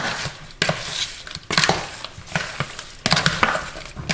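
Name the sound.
mixing beef liver marinated with Maggi cube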